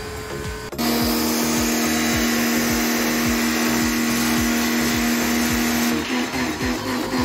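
A Toyota Alphard's air conditioner blower motor drones loudly and continuously with a rhythmic ticking underneath, switching on abruptly at the start and easing near the end.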